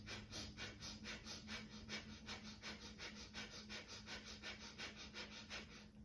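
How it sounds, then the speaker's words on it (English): Breath of fire breathing: quick, even nasal pants repeat at a steady rhythm of about three per second for several seconds, soft and close, with no talking. "We look a little bit like a dog panting through its nose"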